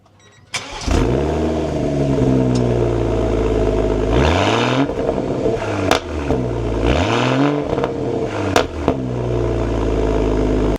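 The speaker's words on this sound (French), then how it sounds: "Et là, on aura un double échappement, donc Akrapovic, ligne en titane qui a été refaite aussi pour cette voiture" Toyota GR Supra Final Edition with an Akrapovic titanium dual exhaust, recorded close behind the tailpipe: the engine fires up, then gives several loud rising revs and falls back to a deep burbling idle, with sharp pops in between.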